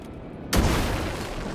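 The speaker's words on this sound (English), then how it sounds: "Throw the flashbang." A flashbang grenade going off in a video game: after a brief quiet lead-in, a sudden loud broadband burst hits and holds as a sustained roaring wash that slowly tails off.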